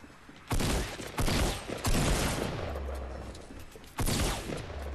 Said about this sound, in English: Oh, that's you I'm shooting at.